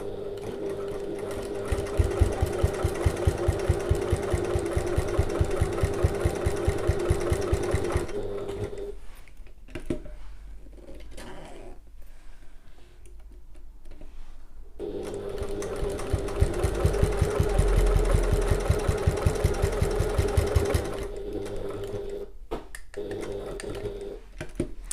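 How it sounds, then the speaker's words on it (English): A sewing machine stitches a zipper seam with a 1/8-inch (3 mm) seam allowance, running in two long steady bursts of rapid stitching separated by a quiet pause. "And we're going to just sew to the other end."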